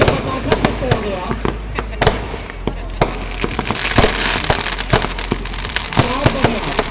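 Firecrackers and fireworks going off at the Dewa Sharif Mela, with repeated sharp bangs and crackling pops at irregular intervals, some close and loud, over crowd noise and voices talking.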